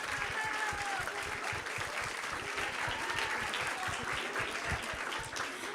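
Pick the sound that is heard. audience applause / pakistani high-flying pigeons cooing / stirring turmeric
audience applause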